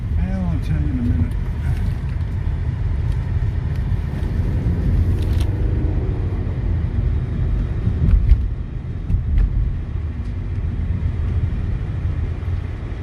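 A 2012 Nissan Sentra with a 2-liter engine and CVT transmission, driving and accelerating, heard from inside the cabin as a steady low engine and road rumble beneath people talking.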